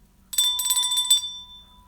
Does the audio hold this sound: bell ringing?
yes